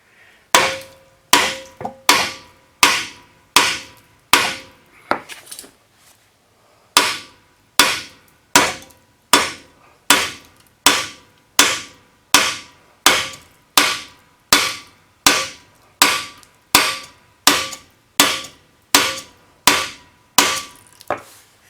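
Repeated hammer blows on seized bolt heads of a neglected low-mileage Honda CR-V, about two dozen sharp metallic strikes in a steady rhythm with a brief pause early on, loud and close with no talk.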